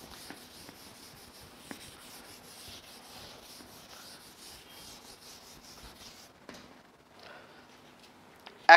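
A chalk blackboard in a Class XII philosophy classroom is wiped clean with soft, faint rubbing strokes that continue for several seconds, ending with a sharp knock.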